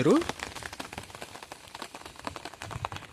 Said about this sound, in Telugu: ఇప్పుడు మళ్ళీ వర్షం పడిపోతుంది.